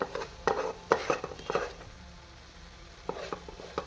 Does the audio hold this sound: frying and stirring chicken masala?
yes